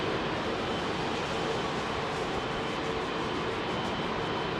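A Cathay Pacific Boeing 777 departing Heathrow gives a continuous, loud, broadband jet roar that holds steady throughout, with no break.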